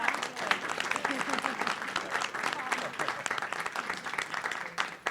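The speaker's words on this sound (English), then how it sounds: "So give a huge round of applause to our wonderful panel." Audience applause for a panel at an Innovation Weekend discussion event, a steady dense wash of clapping that holds evenly for the whole stretch.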